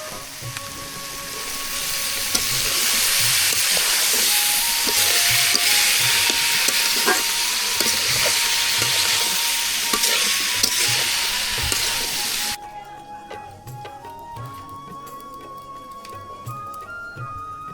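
Spices fry in a pan in a village kitchen, a loud steady sizzle with occasional scraping stirs, then the hiss cuts off abruptly and quieter clatter and faint background sounds continue.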